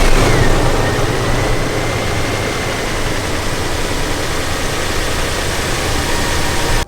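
A Toyota Land Cruiser 100 Series engine idles steadily after being started, a loud, continuous broadband rumble that holds even for nearly seven seconds, with no talking.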